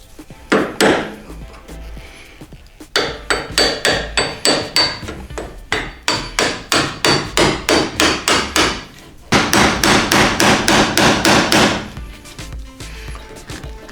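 Fifty-year-old trim is pried off a Porsche 914 with a tool, making long runs of rapid, loud, close knocking strikes, each run ending in a brief pause before the next.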